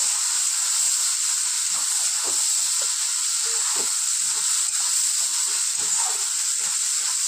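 Ground spices and a splash of water sizzle steadily in a hot pan for an egg tarka, a continuous close hiss with faint stirring scrapes underneath.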